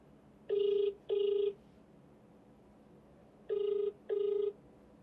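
A telephone ringback tone sounds twice in pairs of short beeps, steady and clean, with quiet background between rings while calling a politician.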